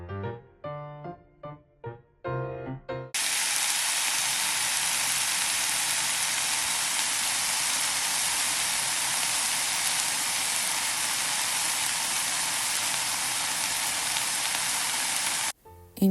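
Onions and bacon lardons sizzle loudly in a hot pan while cooking for a tartiflette, a steady close frying hiss lasting about twelve seconds after a few brief clattering sounds.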